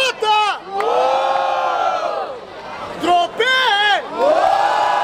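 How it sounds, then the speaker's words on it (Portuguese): A crowd at a street rap battle in Barueri cheers and whoops loudly for a freestyler's rhymes, with swelling shouted cries that rise and fall in several waves, close and energetic. "Barulho para as rimas do AJ!"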